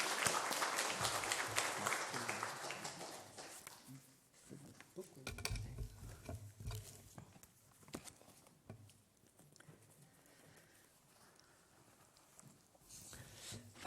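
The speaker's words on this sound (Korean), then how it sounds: "우리 선교사님 나오실 때 우리 큰 박수로 맞이하겠습니다." Church congregation clapping for a missionary coming forward at an evening worship service, dense applause for about four seconds that thins into scattered claps, faint voices and footsteps as it fades.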